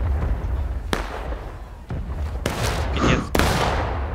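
Musket volley fire from the Civil War era video game War of Rights, with several sharp reports spaced apart over a noisy battlefield din, one near and loud, others overlapping into a ragged volley.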